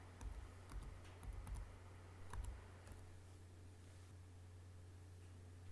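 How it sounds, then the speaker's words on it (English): Quiet typing on a computer keyboard: a few soft key clicks in short bursts, then it fades to faint background hiss, close but low in level. "I just click on my canvas and type out my text"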